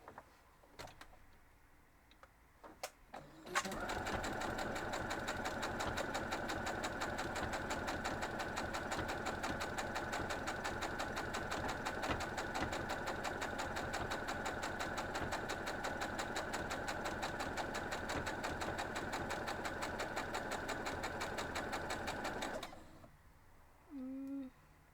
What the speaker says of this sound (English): now I'm going to go sew this, and I'm just going to sew a hair on the inside of this line on both sides of it